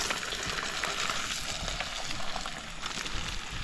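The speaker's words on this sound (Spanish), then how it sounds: "Es que es una barbaridad de aceite y está hirviendo." Tilapia pieces fry in a large amount of boiling oil, giving a dense, steady crackling sizzle close up, with no voices over it.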